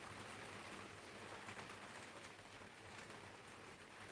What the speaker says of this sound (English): it is raining, and this is what I love now because I can hear the raindrops.